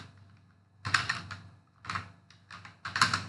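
Bursts of keystrokes on a computer keyboard as a git command is entered, three short clusters of close, crisp clicks separated by brief pauses.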